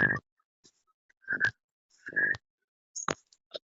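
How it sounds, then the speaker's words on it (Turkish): A series of short, rough grunts in separate bursts with silence between them, close and fairly loud, a wild boar. "Yaban domuzu."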